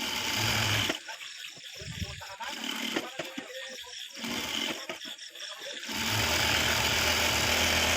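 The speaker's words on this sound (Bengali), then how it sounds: "এবার 1 ফিট একটা সেলাই দিব।" A sewing machine stitches a shirt collar in three bursts of rapid, close mechanical whirring, separated by short pauses, with a constant background hiss.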